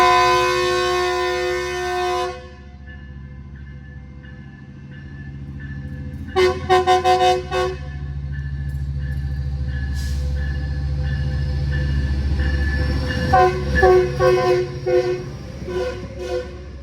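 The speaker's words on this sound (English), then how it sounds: "this train departed for Ventura County with a W engineer giving us a horn show" A departing passenger train at Glendale Station sounds its horn in a horn show: a sustained chord blast that breaks off, then several rapid short toots, a steady rumble of rolling cars, and more clusters of quick horn bursts near the end.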